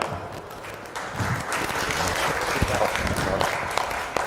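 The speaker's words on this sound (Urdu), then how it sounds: "تالیاں" Audience applause at an Urdu book fair session during a shawl-presentation ceremony for an honoured guest: a dense, sustained burst of many hands clapping together, steady and fairly loud throughout.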